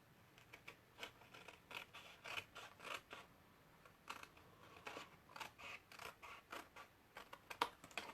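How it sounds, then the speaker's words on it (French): Scissors snip through paper or card for a small lidded gift box holding nail polish or lipstick, a quick run of crisp, close cuts in an uneven rhythm, with no talking. "j'utilise les ciseaux"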